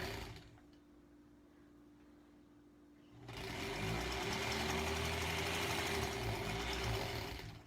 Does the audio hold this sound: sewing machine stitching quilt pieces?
yes